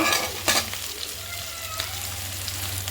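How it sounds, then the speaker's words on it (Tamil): Ingredients being sautéed in a pan for Maggi noodles, with an even sizzle broken by a couple of sharp spoon scrapes near the start, a low steady hum underneath. "நல்லா வதக்கிக்கலாம்"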